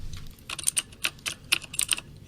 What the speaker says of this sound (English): These are the clicky cherry keys. These are cherry greens